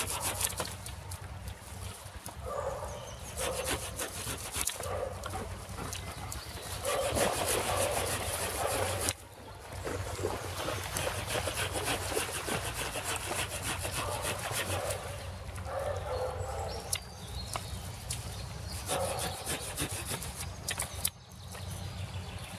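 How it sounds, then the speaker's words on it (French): A cheap hand saw cuts through a wood branch outdoors in a steady back-and-forth rasp, close and fairly loud, with brief pauses between runs of strokes and no talking. "C'est une super bonne scie, pas chère du tout."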